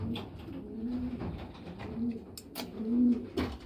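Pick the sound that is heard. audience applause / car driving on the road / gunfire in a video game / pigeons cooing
pigeons cooing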